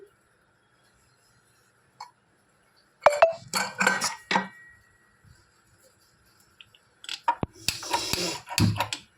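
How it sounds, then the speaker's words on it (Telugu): Metal clinks and clatters in short bursts as a pressure cooker lid is handled and lifted after the whistles, separated by quiet pauses. "మనం కుక్కర్ మూత తీసేద్దాం."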